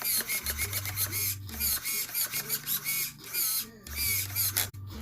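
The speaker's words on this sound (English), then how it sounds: "I'm about to test the servo." Steering servo on a Traxxas Rustler VXL 4x4 RC car, freshly refitted with new gears, whines in short bursts, starting and stopping repeatedly at close range with several distinct pulses.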